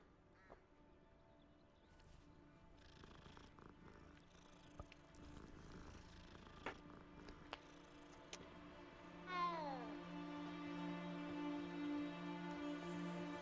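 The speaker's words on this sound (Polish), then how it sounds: "Można pogłaskać kotka?" A cat in the video game Hogwarts Legacy purrs and meows amid faint game sounds and clicks, ending in a sustained, tonal, whiny meow that stays close and moderately loud.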